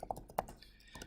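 A computer keyboard is typed on in a lecture setting, a quick run of faint, close key taps in an uneven rhythm with no talking.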